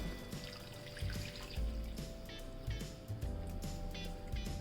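Water is poured from a measuring cup into a gram flour (besan) and yogurt batter, giving a steady close trickle and splash that runs throughout without any talking.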